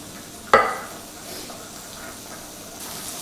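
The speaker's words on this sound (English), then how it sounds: "You can hear the sizzle." A brief clatter, then a steady soft sizzle of pancetta frying in a hot pan, continuing quietly throughout with no talking.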